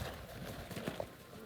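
A small horse's hooves clip-clop on the ground at a farm, a few soft uneven steps fairly faint amid background noise.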